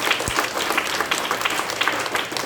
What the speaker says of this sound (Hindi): जोरदार तालियां बने बच्चों के लिए